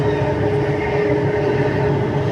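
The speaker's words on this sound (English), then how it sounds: "ರೈಲು ಈಗ ಬೆನ್ನಿಗಾನಹಳ್ಳಿಗೆ ತಲುಪಲಿದೆ." A Namma Metro train in Bengaluru arriving at a station gives off a steady, loud rumble with a sustained electrical hum, unbroken across the short stretch.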